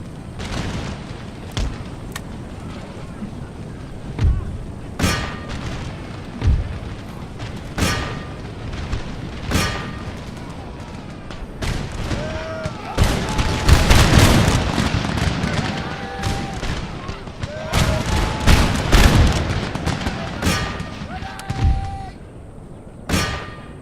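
Musket volleys and artillery in the Empire: Total War battle game: sharp cracks and booms ring out irregularly, swelling into dense rolling fusillades midway, with metallic clangs, clear tonal cues and a low rumble beneath, no talk over it.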